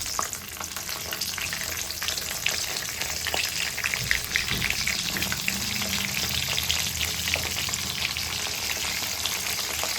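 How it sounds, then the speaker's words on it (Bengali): Eggplant pieces fry in oil left over from frying fish, giving a dense, constant crackling sizzle close up, with occasional stirring and no talk. "সেই জন্য আমি আগে ওই মাছ ভাজার যে তেলটা আছে সেটাতে আমি বেগুনগুলো ভেজে"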